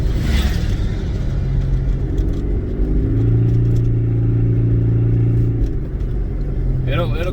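A turbocharged 2004 Chevrolet Cavalier engine runs without a wastegate, a loud, steady rumbling drone with a rising tone in the middle and a short whoosh at the end, with no talk.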